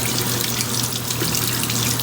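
Running tap water pours steadily over a silicone brush-cleaning mat, a loud, continuous close splashing hiss with no pauses.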